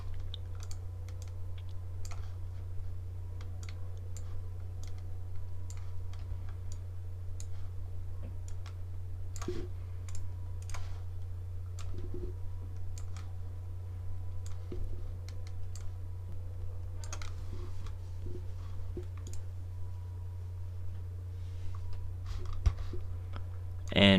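Computer mouse clicking while editing a mask, a scattering of light, quick clicks at irregular intervals over a constant low electrical hum, close and fairly faint.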